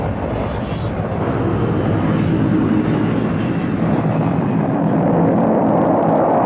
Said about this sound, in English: the 747 jetliner will ferry orbiters from desert landing sites back to the Kennedy Space Center.